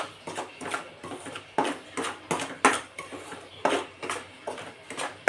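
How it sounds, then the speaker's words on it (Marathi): Fine semolina is roasted and stirred in a pan, and the spoon scrapes close by in a quick, regular rhythm of about a dozen strokes. Each stroke gives a dry, gritty swish, and there is no speech. "आणि हा बारीक रवा भाजून घ्यायचा आहे आपल्याला अगदी मध्यम आचेवर किंवा मंद आचेवर"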